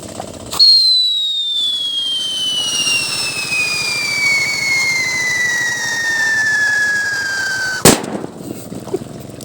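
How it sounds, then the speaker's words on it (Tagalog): A loud pop from a whistle bomb firecracker from Negros Occidental, then a long, shrill whistle that slowly falls in pitch for several seconds before ending in a sharp explosive bang, followed by scattered crackles. "malakas pala yung whistle bomb nila"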